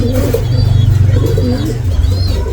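A small blue bar pigeon coos in low, repeated throaty pulses, close and fairly loud, with faint chirps from other birds in the background.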